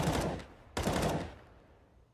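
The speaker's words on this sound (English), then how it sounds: "Bit of sporadic gunfire here" Two bursts of rapid gunfire come from a Counter-Strike match on the Mirage map. They are loud and close, each one decaying into a short echoing tail, and there is no talking.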